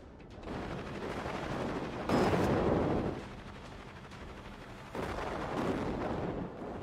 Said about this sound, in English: I'm not entirely sure what they're shooting at right now. But they're shooting at something.